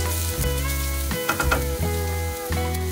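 Garlic sizzling and frying in a hot pan, a steady close crackle with a few brief stirring scrapes, no talking.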